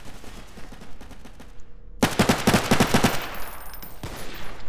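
Rapid automatic weapon fire in the video game Garry's Mod, a quick rhythmic string of loud shots that starts abruptly after quieter earlier bursts and keeps going to the end.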